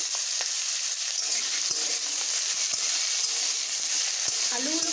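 Potatoes and taro roots sizzle steadily in hot oil in a pan, with a constant frying hiss and a few soft scrapes and clicks of stirring near the end.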